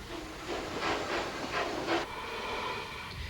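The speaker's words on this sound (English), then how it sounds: "The first train out today is hauled by Bodmin, a rebuilt West Country class locomotive." Bodmin, a rebuilt West Country class steam locomotive on a heritage railway, gives off a steady hiss with several rhythmic puffs of steam, then quieter running with a faint high squeal, no voices.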